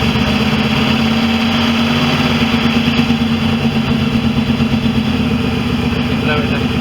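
A 1971 Land Rover Series 2A fitted with a 3.5 V8 engine, parked in a garage after sitting for about three months, runs steadily just after being started, a loud, continuous low engine rumble throughout.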